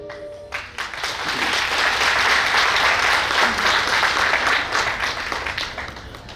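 An audience applauds in a hotel hall during a retirement celebration. The dense clapping swells quickly after a short quiet start, then holds steady and full for several seconds.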